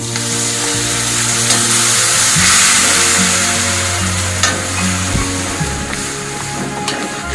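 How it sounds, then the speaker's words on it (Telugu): Chicken with curry leaves frying in a pan: a loud, close, steady sizzle over a low hum, with occasional scrapes and clicks of stirring. "కొంచెం వేసి ఇది కొద్దిసేపు టూ మినిట్స్ అలాగా ఫ్రై అవ్వనివ్వండి"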